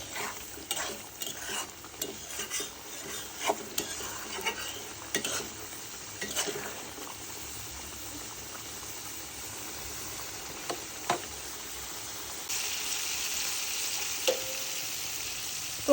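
Village-style prawn curry frying in a pan while being stirred, soft sizzling under scraping and clinking of a spoon in the first half, then a quieter steady simmer with occasional taps.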